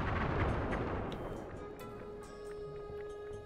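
Artillery fire in the Sly 3 video game, a deep rumbling boom that fades out, followed by a softer game tone and faint clicks.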